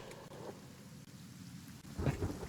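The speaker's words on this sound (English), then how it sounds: "Who else is burning in this acid rain?" Acid rain falling steadily with rolls of thunder in the Kenshi video game, a continuous wash of rain building to a louder, rumbling thunder swell near the end, with no voices.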